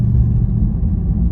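A 2021 Dodge Charger Hellcat Widebody Redeye on Toyo R888R tires, its supercharged engine idling in a close, steady low rumble with a faint whine and no voices.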